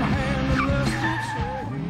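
A BMW 1600ti accelerates hard on a test track, its engine note climbing and dropping through the revs, with a brief tyre squeal mixed in.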